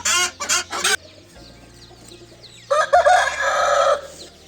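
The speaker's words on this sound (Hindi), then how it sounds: "फिर यहाँ पे थाई में मुर्गा, थाई क्रॉस में साथ 2 मुर्गियाँ हैं।" Rampuri and Thai cross chickens in small cages cluck and cackle close by, with bursts of loud, rasping squawks at the start and again later over a low background hum, no talking.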